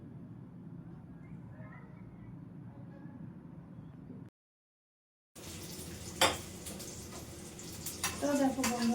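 Hilsa fish frying in hot oil gives a steady close sizzle that breaks off briefly, then resumes with clinks of a utensil against the pan, while a voice speaks over it.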